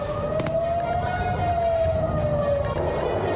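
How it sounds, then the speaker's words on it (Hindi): Air raid siren wailing over Tel Aviv during an Iranian missile attack on Israel, a single steady rising-and-falling tone held loud and continuous over a dense background roar, with no talk. "तेल अवीव में पहुंचते हुए लगातार सायरन बज रहे हैं"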